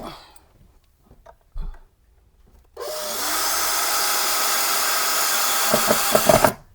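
Power drill driving a screw for a motorized kitchen blind bracket, one steady close whir lasting about four seconds after quiet handling noises, ending abruptly.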